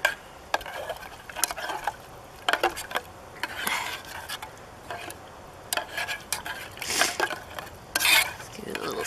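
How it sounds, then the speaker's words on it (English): A spoon stirs lunch in a pot over a cheap twig stove in the woods, giving faint scattered clinks and scrapes at an irregular rhythm, fairly close but quiet. "Just give it a little stir."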